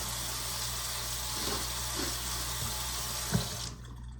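Tap water runs steadily into a sink while peaches are washed, a constant hiss with a few faint knocks and a louder clack near the end before the flow cuts off.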